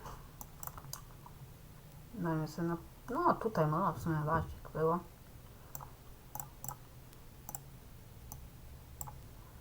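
Sharp computer mouse clicks scattered through the clip, a few near the start and more toward the end, with someone talking in the middle.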